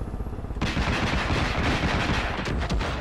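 Rapid bursts of automatic gunfire in the Far Cry 5 video game, loud and close, crackling continuously for about two and a half seconds after a brief quieter lead-in.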